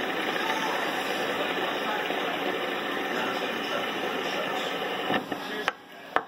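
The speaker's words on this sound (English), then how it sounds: "Let's give it a spin here." A rainbow fidget spinner whirls on a worn ball bearing, giving a steady, close whirring hum with thin high tones that keeps going for about five seconds, then breaks into a few sharp clicks as it slows and stops.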